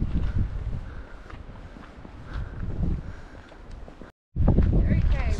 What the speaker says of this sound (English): but windy on the head